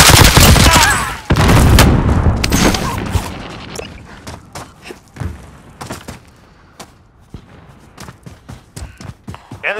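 Dense video-game gunfire, a loud opening burst of rapid shots giving way to scattered, sharp single and clustered reports with thuds over the remaining seconds.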